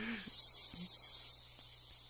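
Cicadas drone just outside a window, a steady high-pitched buzz that stays level throughout, with a few faint, brief knocks underneath.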